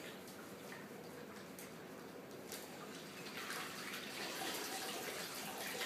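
A plaster of Paris bandage for a below-knee backslab is fully submerged in a basin of water, giving a steady trickling, sloshing wash of liquid that grows slightly fuller and louder toward the end, with no talking.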